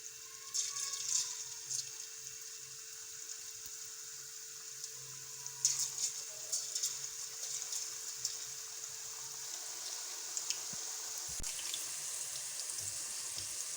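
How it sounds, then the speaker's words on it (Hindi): Small pakoras frying in hot oil for kadhi, a faint steady sizzle with light bubbling that continues evenly throughout, with a soft tonal hum in the background. "ऑयल हमारा गर्म हो गया अच्छे से, छोटे छोटे पकौड़े में डाल दूँगी।"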